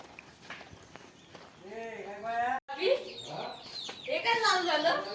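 A hen clucks and squawks in a few rising, agitated bursts close by, mixed with footsteps and people talking nearby.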